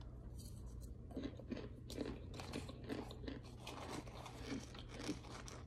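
Crunchy crumbles are chewed with a bowl of pho, a steady series of close, crisp bites and crunches repeating over a low background hum, with no talking.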